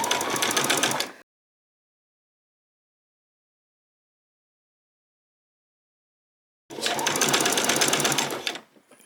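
A sewing machine stitches a dress bodice onto the skirt in two bursts of rapid, buzzing stitching, one brief at the start and one longer near the end, separated by silence.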